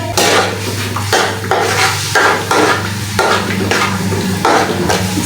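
Onion fries in hot oil in a kadhai while a spoon stirs it, giving loud, close sizzling broken by rhythmic scraping strokes roughly once a second.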